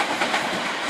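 A Class 378 London Overground electric train runs through Clapham Junction station with a steady, close rumble and the faint clatter of wheels on rail joints.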